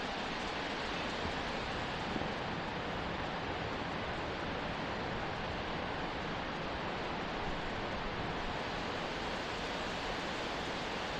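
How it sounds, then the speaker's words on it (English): A wet-weather waterfall spills off a rock wall in Savage Gulf State Park, Tennessee, heard as a continuous, even roar of falling water that stays steady and fills the whole stretch, with no talking. "We're hearing what could be like a wet weather waterfall coming off the rock wall, maybe."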